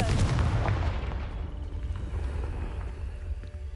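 The Confringo fire spell from the Hogwarts Legacy video game goes off as a loud, booming blast that rumbles and slowly fades over a few seconds.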